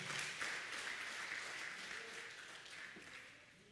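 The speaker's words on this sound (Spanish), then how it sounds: "Dele un aplauso fuerte a nuestro Dios." A church congregation at a Sunday service applauds with a steady wash of clapping that fades slightly toward the end, moderately distant and filling the room.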